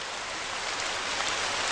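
Rain falling steadily at night in a film scene, a dense even hiss of drops that fills the whole moment with no pauses or talk.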